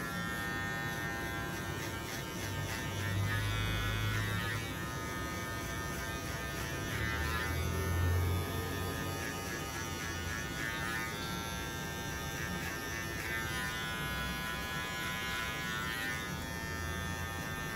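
Electric hair clipper buzzing steadily through a classic haircut, held slightly horizontal to shape a thin triangle, running close and continuous with small swells in loudness as it moves through the hair.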